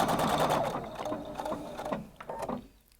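A Husqvarna Viking Designer Brilliance 80 sewing machine running decorative stitches: a steady, close mechanical whir and rapid needle clatter that slows and tapers off near the end.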